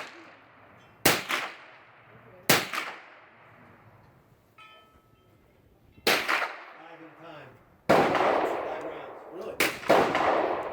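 Sharp, loud gunshot bursts from a gun fired aboard a UH-1 Huey helicopter, roughly five cracks spread unevenly over several seconds, each followed by a ringing decay over steady background noise.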